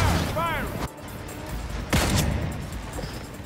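Gunfire in the Gotham Knights video game, two sharp bursts about a second apart, with a rising electronic whine before the first and some game voice overlapping.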